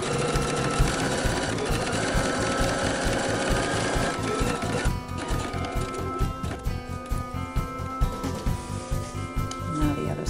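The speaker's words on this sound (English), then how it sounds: "Now we're just going to top stitch on both long edges of our strap, on the right and the left side." A sewing machine top stitches along both long edges of a tote bag strap, running as a steady close whir that shifts midway into a quicker, pulsing stitch rhythm, with no talking.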